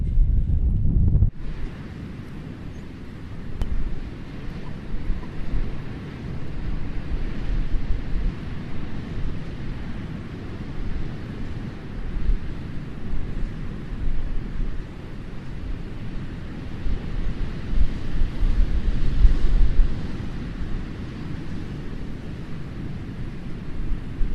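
Strong wind buffets the microphone continuously aboard a ferry in the Scottish islands, a low roaring rumble with gusts swelling and easing, no speech.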